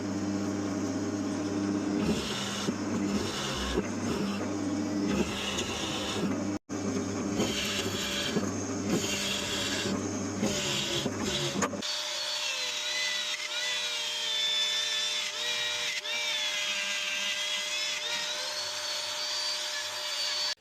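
A router cuts a round-over along the edge of an LP Junior-style guitar body, a loud continuous high whine with a grinding roar, steady throughout with a brief dropout midway, then a thinner, higher tone near the end.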